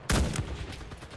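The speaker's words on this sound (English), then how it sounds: "Someone just took a shot and missed." A single sharp gunshot from a free-to-play first-person shooter video game cracks loudly and then echoes and decays over about a second.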